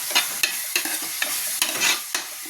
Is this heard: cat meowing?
no